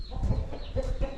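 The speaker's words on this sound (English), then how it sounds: "Rooster." On a small backyard chicken farm, a rooster gives short clucking calls in two bursts over low ambient noise, fairly close, without talk.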